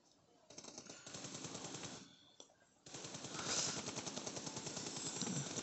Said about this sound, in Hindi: बहुत बढ़िया कवर फायर.